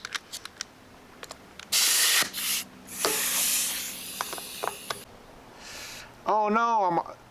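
Air hisses out of a blown tubeless tire valve stem in loud, broadband rushes, a short burst followed by a longer sustained spurt, with a person's voice heard briefly near the end.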